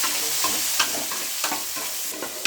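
Okra frying in a pan with salt gives a continuous bright sizzle, broken by several sharp scraping stirs of a spatula, close up and with no talking.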